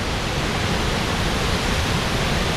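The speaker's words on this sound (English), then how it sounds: "Panther Creek Falls. I have to speak loudly because it is so loud." Panther Creek Falls roars as a steady, loud wall of rushing water, close by and unbroken, with no voices over it.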